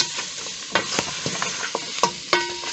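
Beef and onions fry over moderate heat for dry fry beef, with close scraping stirs and soft clatter over a steady low sizzle and no talking.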